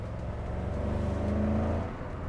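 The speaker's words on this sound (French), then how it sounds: "le bruit du V8, ça gargouille, ça fait des bruits d'américaine." A deep, burbling V8 engine of a Porsche 928 GT idles and rumbles steadily up close, with a low, uneven gurgle throughout and no voices.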